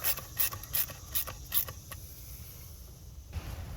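Clamps being fitted onto a hose on a 2007-2013 Nissan Altima engine during a valve cover job, close rasping and rubbing scrapes in short repeated strokes, then quieter handling noise.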